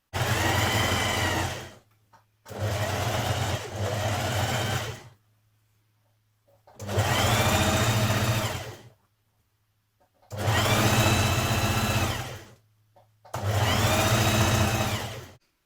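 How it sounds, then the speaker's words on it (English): A loud, close sewing machine stitching around the outer edge of a facing on an unlined coat, running in five steady bursts of about two seconds with a low motor hum between. "with right sides facing, we're going to stitch around that outer edge"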